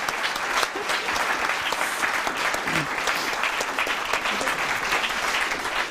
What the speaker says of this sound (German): Ich glaube, Dana Hoffmann hat sich einen großen Applaus verdient.